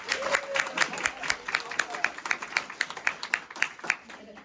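A small audience clapping at a real-estate agents' event, with distinct, fairly quick individual claps repeating over a few seconds, quiet and slightly distant, with some light talk and murmuring mixed in.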